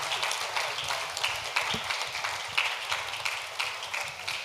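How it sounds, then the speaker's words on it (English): Audience applause for spelling bee spellers at a secondary school competition, a steady moderate patter of many hands clapping throughout, fairly even with occasional louder claps, no talk over it. "Let's give them all a round of applause."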